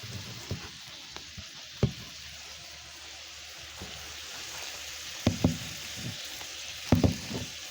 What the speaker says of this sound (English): That is the sound of burgers getting sizzled.